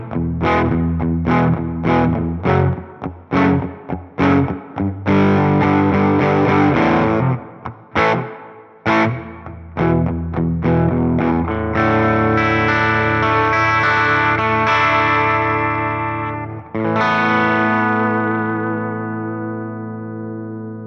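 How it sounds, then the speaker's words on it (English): Electric guitar through a Fender Tone Master Pro modulated small hall reverb at default settings: picked notes and chords with shimmering, wavering tails that swell and linger, loud and close, no voices. "Here's the modulated small hall reverb at default settings."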